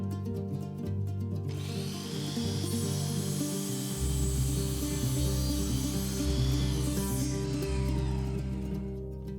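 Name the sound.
jigsaw cutting wood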